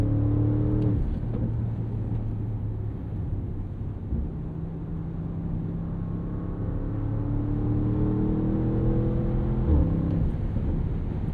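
A 2026 Bentley Bentayga Speed SUV with a 641 hp twin-turbo V8 accelerates, heard from the cabin as a muffled, fairly quiet engine drone. The pitch climbs through successive gear changes, with no talking.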